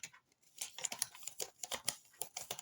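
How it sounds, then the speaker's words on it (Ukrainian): A Stitch sticker being peeled and pressed on: quiet, close crinkling and scratchy rustles of paper and plastic in quick, irregular bursts, with no voices. "Давайте зараз приклеїмо стічем"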